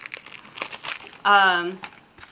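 Wrapped Parmigiano cheese being unwrapped, heard as crinkling and rustling of packaging around a voice that speaks at close range.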